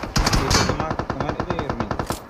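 Rapid automatic gunfire in an online shooter game, a loud, close burst of evenly spaced shots that rattles on for about two seconds with no pause.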